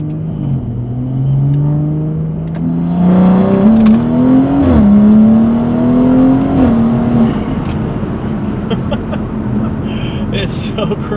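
Gen1 BMW B58 engine on rolling anti-lag in 2nd gear, a loud droning engine note climbing steadily in pitch for several seconds, then dropping off into rumbling with sharp crackles and pops, heard up close over a steady background.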